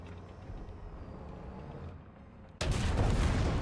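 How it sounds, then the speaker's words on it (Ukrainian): An artillery strike in the tank game War Thunder, with engine rumble first, then a sudden heavy blast that erupts loud and close and stays as a roaring wash of noise. "Закинули мені арту."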